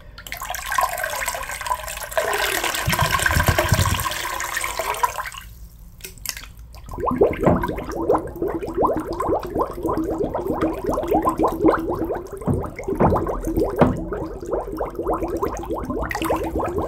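Bath water sloshes and pours inside a glass mason jar, a close, bright splashing rush that stops briefly midway before turning into busier gurgling and tapping, quiet and without speech.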